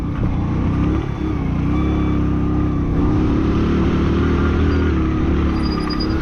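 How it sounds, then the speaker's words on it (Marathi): A truck reverses on a narrow mountain road on the way to Ladakh, its loud engine droning and revving steadily nearby throughout. "हे कसं वळायचं ट्रक रिवर्स घ्यायला लागतंय त्यांना"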